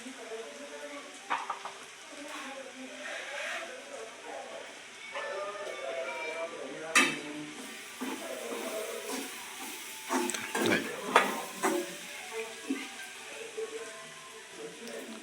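Masala roasting in a pan for a village-style country chicken and mushroom curry, stirred with a spatula that scrapes and clinks in bursts over a steady soft sizzle, with voices talking now and then.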